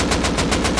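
Rapid automatic gunfire in a multiplayer survival video game, fired at raiding players on a rooftop; a steady, loud stream of shots with an even, quick pulse, no voices.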